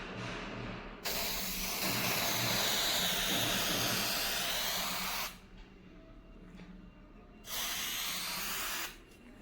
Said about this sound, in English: Before the applications of the penetrant, we need to shake it properly, and then we will apply it.